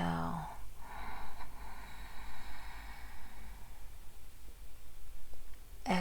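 A deep inhale during a guided meditation breathing exercise, a long airy draw of breath filling the first moments before fading into soft background hiss.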